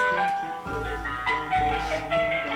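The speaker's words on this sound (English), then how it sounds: "They know that you just want relaxing classical music." Calm classical music playing over the sound system of a Waterstones bookshop, sustained melodic tones steady throughout at moderate level with soft room ambience.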